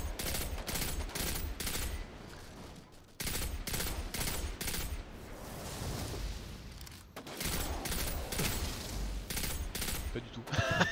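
Rapid bursts of automatic gunfire from the Destiny 2 video game, loud sustained volleys broken by short pauses, with players talking in the background.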